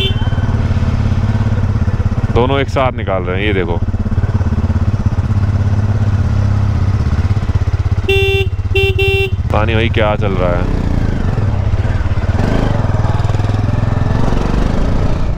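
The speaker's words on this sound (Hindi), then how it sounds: "हम बाइक को थोड़ा सा स्टार्ट कर लेते हैं।" A motorcycle engine drones steadily on a congested hill road near Almora, with other vehicle horns tooting briefly, while people talk over the running engine.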